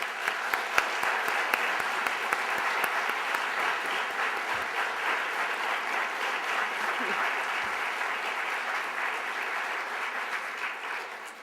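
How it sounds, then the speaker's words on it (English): An audience at the 2010 PEN American Center Literary Awards applauds the judges with a dense, sustained clapping that stays full and even throughout before easing slightly at the end, with no talking. "we'd like to just shower you with applause"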